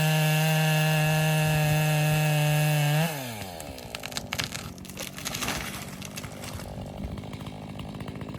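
A chainsaw fells an elm tree on a country homestead, droning steadily and loudly, then the engine drops to a rougher idle amid crackling wood and rustling.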